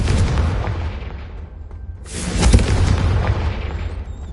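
Confringo blasting spell exploding in Hogwarts Legacy, a loud booming blast with a decaying rumble, then a second heavy burst around the midpoint that trails off into a crackling roar.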